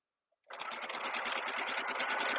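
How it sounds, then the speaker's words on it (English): A sewing machine stitches a quarter-inch seam, starting abruptly after a brief silence and then running in a fast, steady, close mechanical whir. "so we are sewing, 1/4 inch, zipping all the way down"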